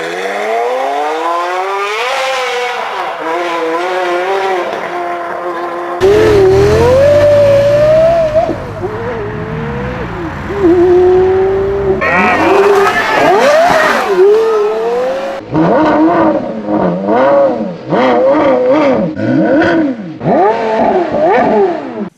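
A high-revving V10 sports car engine screams loudly, rising and falling in pitch through repeated sharp gear changes and throttle blips.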